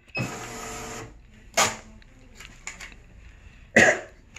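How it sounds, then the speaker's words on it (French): A price label machine prints a label in a short burst of mechanical whirring, followed by a few brief clicks and another sharp buzzing feed, with a cough-like sound among them. "si je fais 131 PLU, je fais imprimer"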